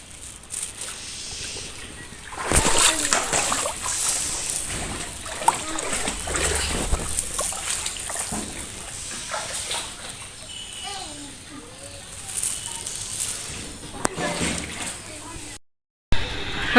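Knee-deep rainwater floods around a house, sloshing and splashing in irregular bursts close by, heard under ongoing talk with a voice now and then.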